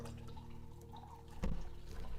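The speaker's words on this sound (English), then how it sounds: "a little bit of water." Tap water poured into a container for a pre-workout drink, a short low splash and trickle rising partway through, fairly faint and close with no talk over it.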